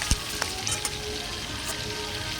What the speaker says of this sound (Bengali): দেখো পেঁয়াজটাও দিয়ে দিলাম। পেঁয়াজটা ভাজা ভাজা হয়ে গেলে এবার টমেটোটা দিয়ে দেবো।